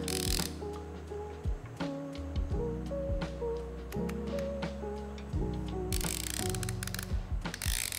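The calibration ring of a 1zpresso ZP6 hand coffee grinder is turned and ratchets, giving a close, steady run of rapid mechanical clicks with gear-like grinding and no talking.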